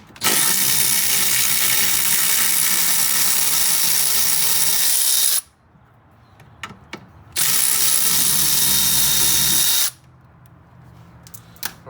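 A ratchet removes a 10mm bolt from the fuel filler neck bracket of a 2008–2013 Cadillac CTS, heard as two loud, close, sustained whirring bursts separated by a short quiet gap with faint clicks.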